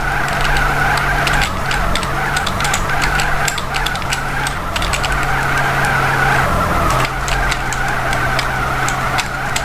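Car tires screech and skid continuously while drifting in GTA San Andreas on the Kagarasan map, over a constant engine drone, loud and unbroken with slight pulses.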